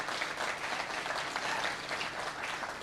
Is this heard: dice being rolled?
no